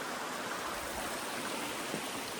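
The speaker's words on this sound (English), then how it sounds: "here's that same brook" A mountain brook flows beside a trail in the White Mountains near Mt. Moosilauke, giving off a steady, even rushing wash with no voices.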